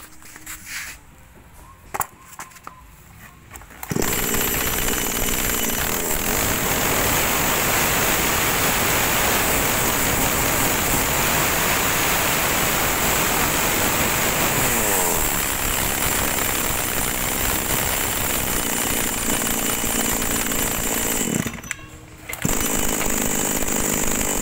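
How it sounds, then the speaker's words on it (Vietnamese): A few quiet seconds, then a Makita chainsaw engine roars to life and runs loudly and steadily, briefly dropping before revving again near the end. "Bây giờ em sẽ test nổ máy cho anh em xem."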